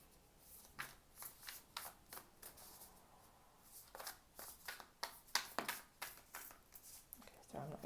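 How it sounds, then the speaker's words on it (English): Tarot cards riffled and shuffled by hand in a quick series of soft crisp flutters and taps, fairly faint and close, with brief pauses between bursts and a voice heard faintly. "I'm just going to shuffle and loosen the deck up a little bit."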